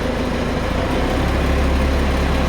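Engine of an agricultural sprayer feeding its boom rises steadily as a little throttle is added, a loud continuous low rumble that thickens and climbs in pitch, close by, with no talk over it.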